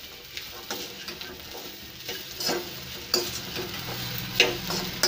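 An onion and green chilli mixture is stirred and sautéed with pulses in a pan, giving a close, continuous sizzle broken by repeated scraping and clinking strokes of the spoon.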